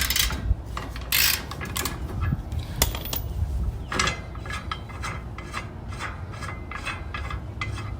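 A ratchet is worked on a frame bolt of a 2021 Toyota Tacoma SR5 Trail Edition, giving close, irregular clicking and rubbing bursts with brief pauses between them.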